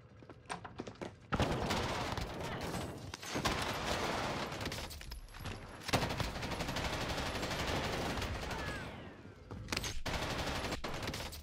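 Rapid bursts of gunfire from the video game Warzone, dense and loud, with sustained automatic volleys filling most of the stretch and brief pauses between bursts.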